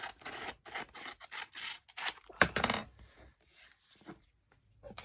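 Scissors cutting paper for a journal, several short snipping and rustling bursts with quiet gaps between them, one sharper cut near the middle, close and soft, no talking.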